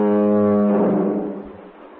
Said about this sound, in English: Well, Mr. Bennett, could you tell us what your foghorn sounds like then?